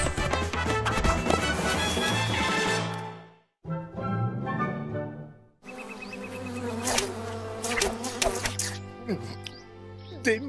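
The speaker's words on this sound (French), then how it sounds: "Des mouches comme je les aime." Flies buzz near and loud in a jungle setting, with the drone broken by a short pause, over a busy cartoon soundtrack.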